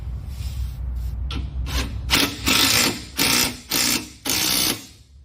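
A power tool whirs in several short bursts as bolts are run down on a rear bumper for a CFMoto UForce U10 side-by-side, loud and close, with each burst ending abruptly and no speech.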